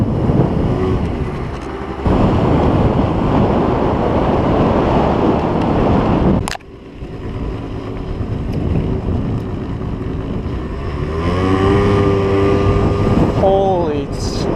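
Scooter ridden on a cold night, with loud, steady wind roaring over the microphone and engine drone beneath it, a brief dip midway, then rising engine pitch near the end.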